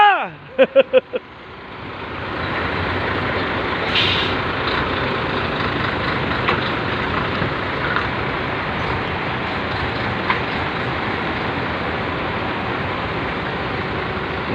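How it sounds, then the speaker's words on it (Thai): A trailer truck reversing into a parking space, its steady diesel engine rumble droning continuously after a few sharp beeps at the start, with occasional faint clanks and a person speaking over it. "รถพ่วงถอยนะครับ"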